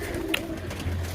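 A large, strong black pigeon gives a brief, low coo, followed by a softer tone, close by with no talking.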